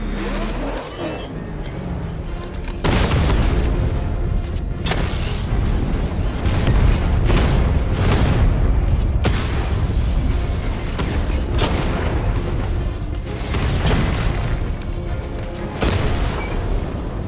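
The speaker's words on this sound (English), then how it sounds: "Your 60mm cannon will penetrate these heavily armored units, but it'll take a few direct hits to destroy them." Heavy cannon fire and booming explosions from a 60mm tank cannon in the Batman Arkham Knight video game, loud and continuous with repeated blasts over a rumbling engine-like roar.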